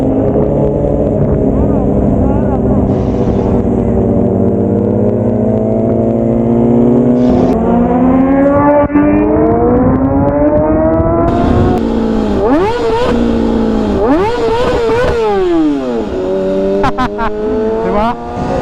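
A Yamaha MT-09 motorcycle engine revs loudly and close, rising and falling through repeated throttle blips with a rough, growling tone, while people talk over it.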